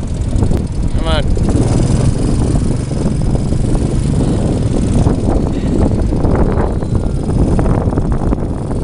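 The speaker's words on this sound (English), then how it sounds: "first time driving a four-wheeler" Four-wheeler quad engine droning steadily as it drives on a beach in Montanita, Ecuador, a loud continuous rumble with wind noise and people talking over it.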